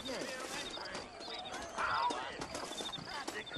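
Horse hooves clop irregularly beneath a faint whinny in the video game Red Dead Redemption, with a voice speaking over the scene at low overall volume.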